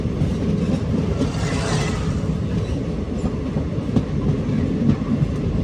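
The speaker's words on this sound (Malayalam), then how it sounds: "ട്രെയിൻ ഇപ്പോൾ സ്ലോ ആയിട്ടുണ്ട്." A train rolling slowly on rails between Dibrugarh and Tinsukia past tea gardens gives a steady rumble with rhythmic wheel clatter and occasional faint squeals, close and continuous, with no talking.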